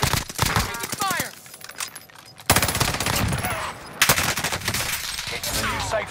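Call of Duty: Warzone gunfire rips through in dense, rapid automatic bursts, with two separate volleys broken by brief quieter gaps and game voice lines heard faintly underneath.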